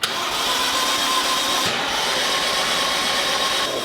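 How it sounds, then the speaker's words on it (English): A BMW 118i with a broken engine and no compression cranks on the starter, giving a steady, loud whirring drone without any firing beats, alone and close up. "I got it cranking. I want you guys to hear it because yeah, the engine on this car is definitely broken"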